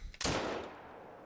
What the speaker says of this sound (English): That was a shot.